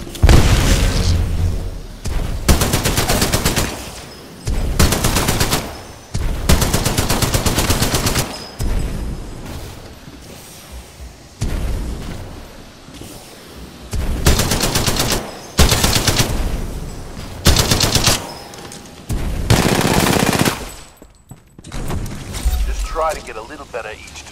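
Spitfire light machine gun in the Titanfall 2 single-player campaign firing in long, loud sustained bursts separated by short pauses, booming and rattling across the whole stretch with game effects filling the gaps.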